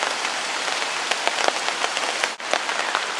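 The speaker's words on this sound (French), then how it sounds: "même sous la pluie c'est pas gênant" Rain falling steadily outdoors at a bushcraft bivouac camp, a dense, close patter of drops striking surfaces all around, continuous and fairly loud with no voices.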